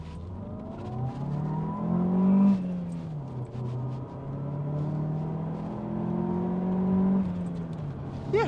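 Rover 820 Vitesse turbo engine revs hard while driving, its pitch sweeping up and falling back through gear changes in two long pulls, loud and close inside the car.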